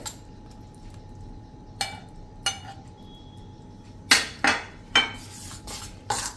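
Ghee and gram flour being stirred into a batter in a bowl for besan mesub, with several sharp utensil clinks and scrapes against the bowl spaced irregularly, loudest near the end over a quiet room.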